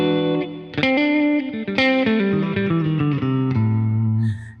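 Electric guitar played through a light compressor pedal, a sequence of sustained, slightly thickened notes and chords ringing clearly with smooth decay, alone without talk.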